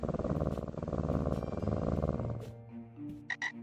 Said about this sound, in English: Behold the purring.